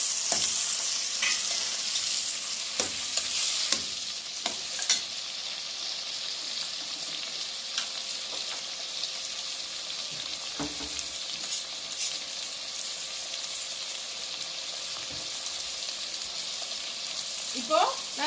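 Salted tomatoes fry in a pan for paneer butter masala, giving a dense, continuous sizzle close up, with occasional spoon scrapes and stirring knocks, and no talking.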